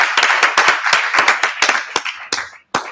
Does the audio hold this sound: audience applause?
yes